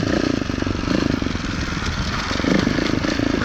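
2018 Beta Evo Factory 300 4T trials motorcycle riding single track, its engine chugging with a steady, rapid putter and clattery mechanical noise, close and loud throughout.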